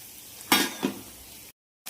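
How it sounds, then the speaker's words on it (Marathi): Vegetables are stir-fried in a pan with turmeric, garam masala and salt, cooked in their own steam without added water. Two short, sharp sizzling bursts come as the pan is stirred, then it falls quiet. "हे सर्व मी आता ह्याच्यामध्ये टाकून घेते आणि मग परतणार आहे"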